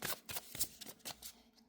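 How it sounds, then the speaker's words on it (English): Tarot cards being shuffled by hand for a pick-a-card reading, a run of close, crisp riffling and slapping bursts in quick irregular rhythm, with no talking. "let's go ahead and do some live shuffling"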